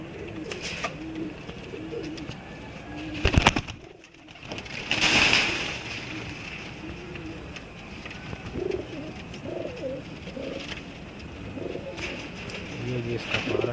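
Blue kamgar pigeons coo in a loft, soft repeated calls close by, with faint talk and a brief louder bump partway through.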